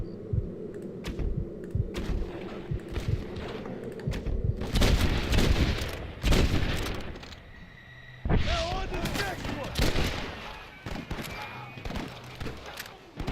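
Gunfire in the Western video game Red Dead Redemption: bursts of shots and booms under a steady music and ambience bed, heavy clusters in the middle and later stretches, with brief talk over the action.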